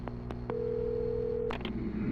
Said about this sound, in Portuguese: Bom, vamos usar o telefone.